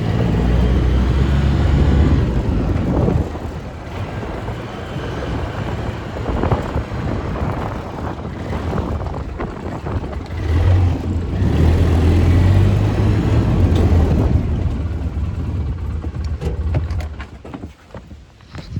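An engine starting and running, a loud rough rumbling with uneven chugging that swells and fades over several seconds before settling.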